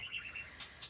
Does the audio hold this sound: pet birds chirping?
yes